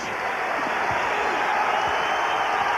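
Crowd at a college basketball game between Providence and Syracuse in the Civic Center rising in a loud, sustained wash of cheers and applause, dense and continuous, with a commentator talking over it.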